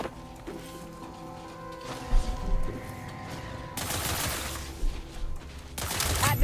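Gunfire in the video game The Outer Worlds 2, a steady barrage of loud shots and impacts, growing denser in bursts toward the end, with game effects underneath.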